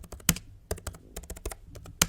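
Typing on the keyboard of an Apple MacBook Pro M1, a quick, uneven run of close, crisp key clicks with a few sharper, louder strokes, no voices.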